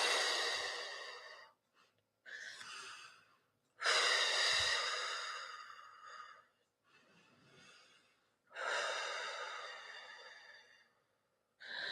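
Slow, deep meditation breathing, long audible inhales and exhales close to the microphone, each breath separated by short pauses.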